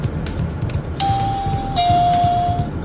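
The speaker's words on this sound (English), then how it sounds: "And that chime means that we're at the end of the alert." A Cheetah C-100 radar detector gives a two-tone electronic chime marking the end of an alert, a clear sustained pure tone stepping down in pitch, heard inside a moving truck over low road rumble.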